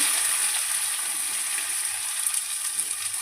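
Chopped onion with fenugreek, black cumin and asafoetida frying in hot oil makes a close, steady hiss and soft crackle, with no voices over it.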